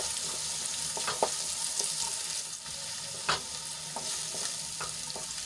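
Finely chopped onion sautéing in hot oil with spice paste in a pan, a steady close sizzle broken by occasional scraping stirs of a spoon, with no talking.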